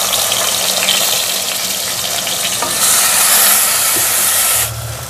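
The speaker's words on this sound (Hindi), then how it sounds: "प्याज को हमने तब तक फ्राई करना है जब तक इसका कलर चेंज होना ना शुरू हो जाए।" Chopped onions fry in ghee with cumin seeds, a loud, continuous close sizzle with stirring scrapes and a brief hissing surge in the middle, no voices.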